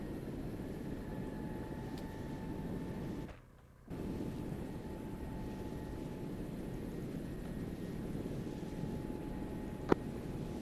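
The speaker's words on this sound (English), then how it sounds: "Helicopter." A military helicopter drones overhead in a steady, loud rotor-and-engine roar during a field training exercise, dipping briefly before resuming at the same level.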